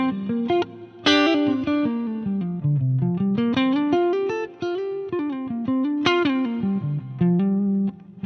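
Electric guitar through a Line 6 Pod Go set to an edge-of-breakup Marshall amp tone, playing a slightly gritty melodic line with sustained notes and gentle picking, close and clear with no talking.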